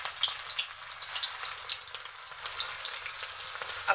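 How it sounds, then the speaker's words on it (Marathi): Marinated chicken tikka pieces fry in hot oil with a steady, dense crackling sizzle, close and continuous throughout, with no voices. "चला, आपण आता हे पीस तेलामध्ये टाकू। तेल गरम झालंय आपलं।"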